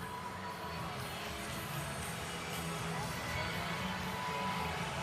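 A large crowd at Wrigley Field during a frigid Illinois versus Northwestern college football game makes a steady, distant roar with scattered cheers and shouts, continuous throughout.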